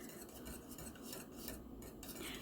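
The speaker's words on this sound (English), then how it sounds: "Keep your burner on low and keep stirring." Cornmeal porridge stirred in a pot over a low burner, with a spoon scraping and clinking against the pot in a soft, continuous, quiet rhythm.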